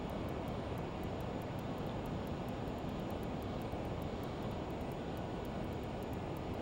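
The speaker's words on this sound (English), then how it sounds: "Slowing down the aircraft." A Learjet in Microsoft Flight Simulator drones steadily as it slows down, a constant loud engine and wind roar with a faint repeating tick above it, no voices.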